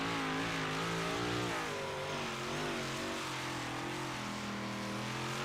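Big block modified dirt race car on a qualifying lap at Charlotte, its engine droning loud and steady with the pitch wavering as it holds the throttle through the turns, no talk over it.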